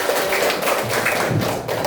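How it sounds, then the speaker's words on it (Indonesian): Schoolchildren in an Indonesian classroom clap their hands together, giving a loud, dense burst of close clapping with thumpy hits throughout. "Oke, tepuk tangan."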